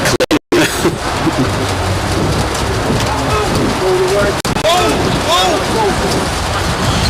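Rain patters steadily on the roof of a media booth at an amateur cricket ground, a dense continuous drumming that fills the space while voices talk underneath.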